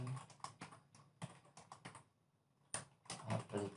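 Bursts of keystrokes on a computer keyboard while calling a Python function during a programming tutorial, quick irregular clicks close to the mic, a pause of near silence, then faster typing resuming.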